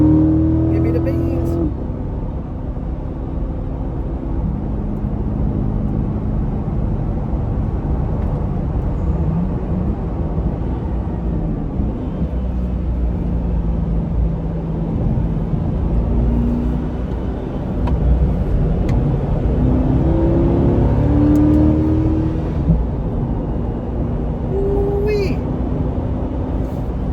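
A Chevrolet Corvette E-Ray is driven hard on a race track, its engine note rising and falling through sustained acceleration close to the microphone, with steady road and wind roar underneath.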